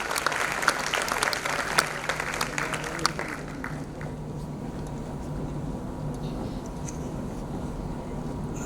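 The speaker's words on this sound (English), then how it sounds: "Let's give a huge round of applause to the incredible, extraordinary Miss Sangeeta Talwar." Audience applause for a speaker at a youth program event in Ludhiana, a dense burst of clapping that is loud at first and then thins into scattered claps over a low room hum.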